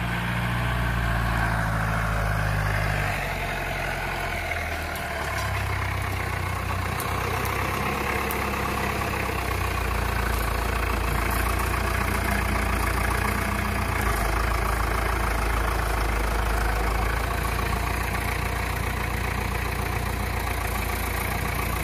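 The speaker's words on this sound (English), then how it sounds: "if you can hear me over the tractor" A farm tractor idles steadily for a long stretch during a hay bale delivery, a loud, constant low rumble that hardly changes and carries no talk.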